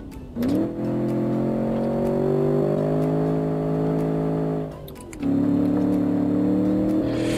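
A car engine revs hard and pulls under acceleration on a track with heavy lift-off oversteer, its steady harmonic drone rising, dipping briefly as the throttle lifts around a corner, then surging loud again, close and without talk.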